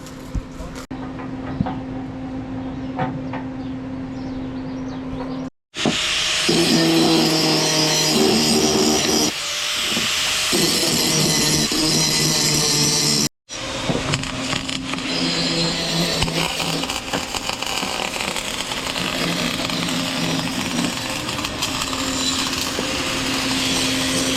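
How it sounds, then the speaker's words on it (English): Steel being welded onto a truck chassis for camper trailer reinforcement in a Baja workshop, a loud continuous crackling buzz broken by two short pauses, with a steady mechanical hum underneath. "steel on there and they're getting welded up right now"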